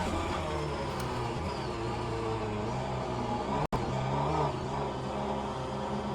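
Mini Cooper engine under throttle on the Sebring club circuit in the rFactor 2 racing game, a steady loud droning whine that climbs and falls in pitch as it revs, with a brief dropout midway.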